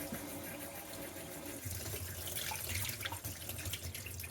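Hot water from a caravan tap on an Alde heating system runs in a continuous gush close by and grows fuller and louder partway through, with no voices over it.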